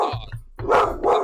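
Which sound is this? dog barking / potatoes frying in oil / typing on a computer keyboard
dog barking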